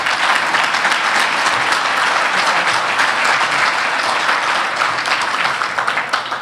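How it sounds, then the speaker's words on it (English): Loud, sustained applause from a gala audience honoring a speaker, dense overlapping clapping from a big crowd that holds steady for several seconds before easing slightly at the end. "Round of applause for Tim, everybody."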